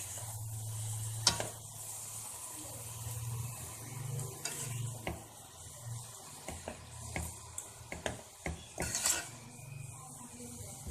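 Vegetable noodles and onions tossed in a pan, restaurant style, with a utensil scraping and clinking against the metal over a steady low sizzle and hum, intermittent sharp knocks, no voices.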